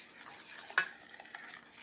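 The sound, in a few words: stirring vanilla and butter into chocolate icing on the stove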